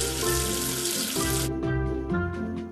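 Water runs steadily from a tap to rinse soap away, a bright rushing hiss that cuts off midway, leaving cartoon music playing underneath.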